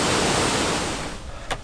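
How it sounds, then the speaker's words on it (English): Rainbow Falls on the Black River makes a loud, dense, steady rush of falling water up close, fading slightly toward the end. "So yeah, guys, Rainbow Falls, the last fall before we get down to the Black River Harbor"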